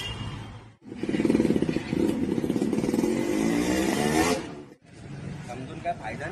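A motorcycle engine revs and pulls away on a street, loud and close at first and then steady, with people talking over it.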